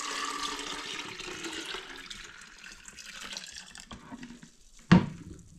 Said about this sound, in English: So I'll just put this water right in the kettle.